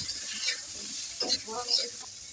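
Pieces of potato and radish are stirred into spices in a hot pan, giving a soft steady sizzle with a few scraping stirs of the spatula, close and fairly quiet.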